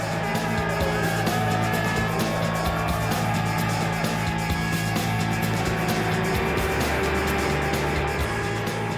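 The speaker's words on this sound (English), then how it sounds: "That was a taste of the greatest endurance motor race in the world, the Le Mans 24 Hours." Race cars at the Le Mans 24 Hours endurance race roar past in a dense, continuous wall of engine noise with sustained droning tones, loud and unbroken.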